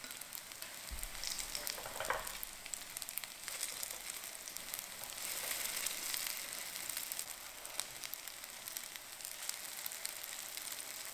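Meatless cutlets fry in hot oil in a pan over medium heat, making a continuous soft sizzle and crackle with occasional small pops, fairly quiet and alone without talk.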